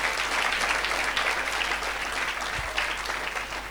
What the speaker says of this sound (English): Let's give a round of applause to the management and the committee.